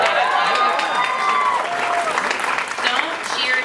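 Live comedy club audience at a Muslim comedy festival cheering and applauding steadily, a dense wash of clapping and voices filling the room at close range throughout.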